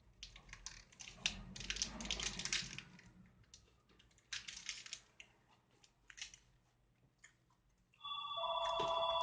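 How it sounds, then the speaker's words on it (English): A telephone rings near the end, a loud electronic ring following several seconds of scissor-like clicks and keyboard-type tapping during a custom water-cooled PC build in an NZXT H450 case. "there's the phone."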